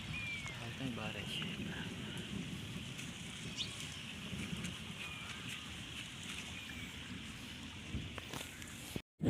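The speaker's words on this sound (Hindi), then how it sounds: "अज साडे इलाके दे विच फर्स्ट टाइम भी काफ़ी बारिश हुई है" Rain falls steadily in a rural area, a soft, constant hiss with faint wind noise on the microphone and occasional distant bird calls.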